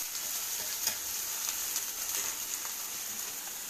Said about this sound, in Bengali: এই বেগুন পেঁয়াজ কালো জিরে ফোড়ন দিয়ে ভাজা হচ্ছে